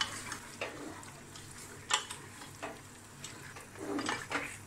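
Beef for haleem being stirred and fried in a large pot, with soft sizzling and scattered scraping and clinking of a utensil against the metal, fairly faint and uneven.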